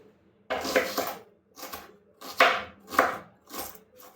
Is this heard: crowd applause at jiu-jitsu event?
no